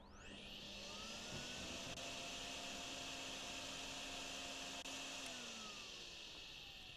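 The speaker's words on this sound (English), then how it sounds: "Vacuum's full, but it didn't really seem to move anything." A vacuum runs in the Drain Sim video game while clearing a convenience store area, a steady, loud motor whine that spins up at the start and holds a constant roaring hum throughout.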